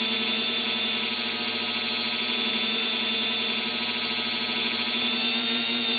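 A Dremel-style rotary tool with a polishing kit whines steadily against an axle head, a constant high-pitched buzzing drone with a hum beneath, close and unbroken throughout.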